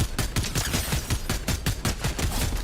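Rapid bursts of gunfire in Fortnite, a dense string of loud shots cracking in quick rhythm, close and continuous without talk.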